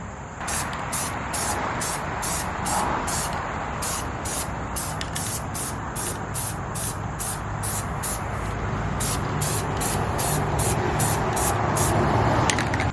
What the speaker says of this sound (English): Let's just go ahead and spray paint it.